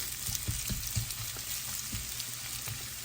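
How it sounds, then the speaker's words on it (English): Onions and peppers sauté in a pan for shakshouka, a dense continuous sizzle close up with soft bumps and scrapes of stirring throughout, no voices. "I'm going to cook those for about 10 minutes or so until they are softened, the onions are translucent"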